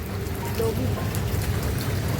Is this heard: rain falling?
yes